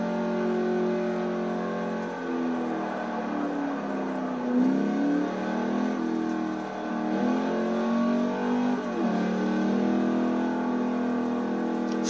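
Engine roars steadily as a car accelerates and cruises at high speed on a race track in Forza Motorsport 4, a continuous revving drone with shifting pitch and no talk over it.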